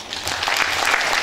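Audience applause at a folk vocal ensemble's anniversary concert: a broad, continuous clapping from a hall crowd that swells slightly and holds steady, with no talking on top.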